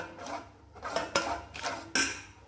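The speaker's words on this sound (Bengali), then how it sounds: "চামচ দিয়ে ঘিটাকে এইভাবে চারদিকে ছড়িয়ে" A spoon spreading ghee across paper for a palm pitha, a few scraping and tapping strokes with light clinks, close and moderately loud, with no voices.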